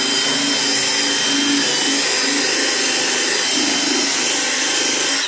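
A drill brush whirs continuously while scrubbing car interior carpet, a steady close, loud motor drone with a slightly wavering pitch and no speech.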